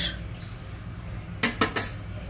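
A spoon clinks against a pot while shrimp pulao made with khasa rice is stirred: three quick metallic knocks close together over a quiet, low background hum, with no talking.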